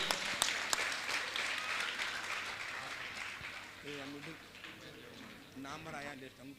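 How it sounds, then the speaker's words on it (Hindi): Loud crowd applause from an audience at a religious discourse in Indore fills the space, dense clapping that gradually thins out, with a voice speaking over it toward the end. "इंदौर वालों से चाहूंगा जोरदार ताली बजाकर इनका सम्मान करें।"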